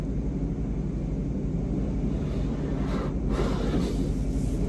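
Water spraying onto a car during a car wash, a steady broadband rush with a brief brighter burst midway, no voices over it.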